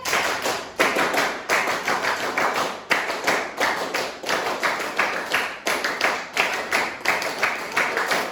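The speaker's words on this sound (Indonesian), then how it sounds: "3 kali tepuk PKM." Students in a classroom clap in unison through a three-clap PKM routine, crisp hand claps grouped in short bursts with small pauses between sets, repeating steadily for several seconds with no talking.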